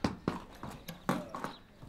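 A Danish harness-racing trotter is warmed up on a trotting track, its hooves clip-clopping in an uneven, rapid rhythm of sharp strikes, fairly faint and mixed with light background noise.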